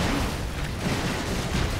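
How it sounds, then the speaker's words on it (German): A dense, continuous rumbling blast from an explosion in the video game Broforce, loud and filling the whole short stretch without a break. "Der explodiert in kleinere Typen"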